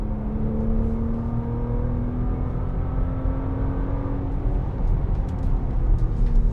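A 2025 Audi SQ5 accelerating hard along a straightaway, its engine note a steady rising drone with rumbling harmonics, heard from inside the car with no talking.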